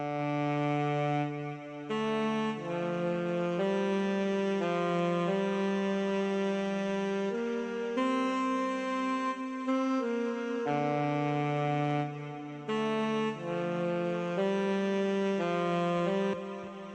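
Saxophia saxophone plugin with added effects plays a smooth melody of held, overlapping notes that ring into each other with a washed, reverberant tail, steady and prominent, with no talking.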